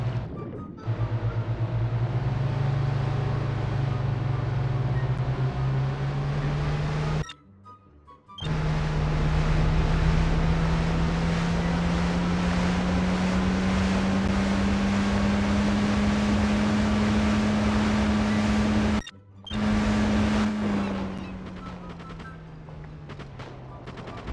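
Boat engine in the Just Cause video game, a loud steady motor drone that rises slowly in pitch and runs almost continuously, broken by two brief cutouts, with gunfire-like bursts mixed in.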